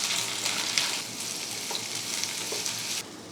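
Sliced onions and green chillies sauté in a pan, a close, steady sizzle with occasional scrapes of stirring, easing slightly quieter near the end.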